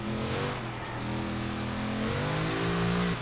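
A roughly 600 to 700 horsepower seven-gear car in Forza Horizon 3 accelerates hard on a rainforest sprint, its engine drone climbing steadily in pitch and dipping briefly at a gear change, loud and close throughout.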